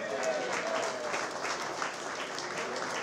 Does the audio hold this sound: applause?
yes